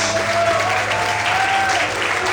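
Church congregation applauding during a Portuguese-language worship service: a thick, continuous roll of many hands clapping, loud and even across the short span, with a faint sustained tone underneath and no clear speech.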